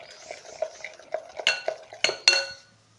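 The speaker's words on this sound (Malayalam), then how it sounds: "ഒരു പാത്രത്തിലിട്ട് ഒന്നിച്ച് മിക്സ് ചെയ്തെടുക്കാം." Sugar, coconut milk and flour being mixed together in a bowl, a few sharp clinks and scrapes of a utensil against the dish over about three seconds.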